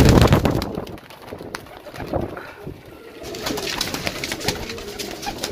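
Pigeons coo softly amid outdoor rustling and scattered clatter, with the low calls repeating irregularly throughout.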